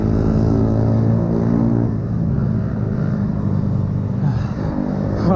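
Continuous loud engine drone of motorbikes going by close at night on Brighton seafront, with slight rises and falls in pitch as they pass.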